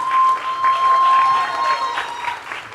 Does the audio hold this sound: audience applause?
yes